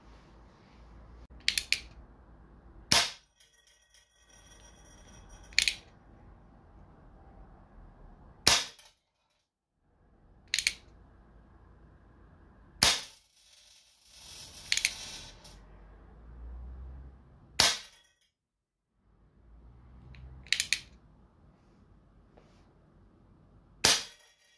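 A Colt Peacemaker CO2 BB revolver fires through a ballistic chronograph, giving about nine sharp, loud cracks with short gas hisses. The shots come at irregular intervals of a few seconds, with low room noise between them and no talking.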